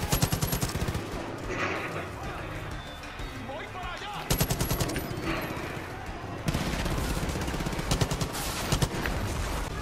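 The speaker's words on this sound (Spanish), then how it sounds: "Se reventaron los cohetes." Rapid bursts of automatic gunfire in the video game Far Cry 5 crackle through a dense, noisy mix, with shouting voices over the shooting and sudden jumps in intensity.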